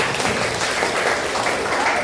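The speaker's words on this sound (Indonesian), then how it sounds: "tepuk tangan untuk mereka" A classroom group claps together in steady, dense applause for a couple of seconds, fairly close and loud.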